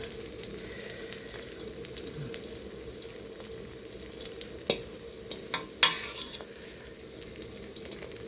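A three-egg omelette fries in a pan with a soft, continuous sizzle, stirred and scraped now and then, with a few sharp utensil clinks near the end.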